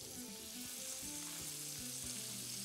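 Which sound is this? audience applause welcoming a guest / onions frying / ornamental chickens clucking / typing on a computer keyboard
onions frying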